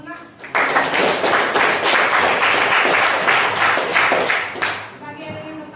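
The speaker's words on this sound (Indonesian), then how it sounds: "Kita kasih tepuk tangan dulu, Nak." A classroom of students claps for a classmate's answer during a trigonometry lesson, a dense burst of applause lasting several seconds before fading out, with voices faintly mixed in.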